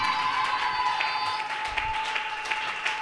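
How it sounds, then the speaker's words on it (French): A church congregation applauds loudly, a dense, steady patter of clapping that swells slightly toward the end. "Acclame fortement."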